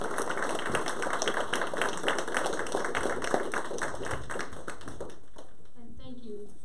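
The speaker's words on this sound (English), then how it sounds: "Give him a round of applause" Applause at a studio piano recital for a young performer who has just played a piece: dense, steady hand clapping from a small audience for about five seconds, then fading out as a voice begins to speak at the end.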